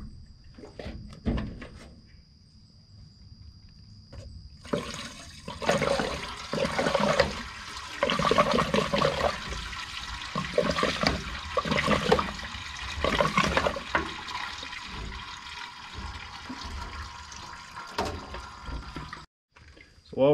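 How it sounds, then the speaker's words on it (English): Diesel is poured into an old gas golf cart engine to flush out oil and water, giving a sustained splashing, gurgling liquid rush that swells and fades with a few brief pauses. "I'm gonna go ahead and take some diesel and flush all that out"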